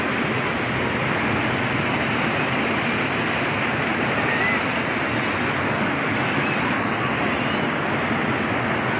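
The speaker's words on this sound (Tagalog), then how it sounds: "ganda ng sound natin, yung sound ng tubig." Steady, loud rushing water from a flowing stream (batis) in Laguna, a continuous dense wash of sound filling the whole stretch without pause.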